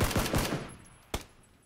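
Gunfire in the video game PUBG: a quick burst of several rapid automatic shots followed by a single louder shot after a short pause, sharp and close, with no voices.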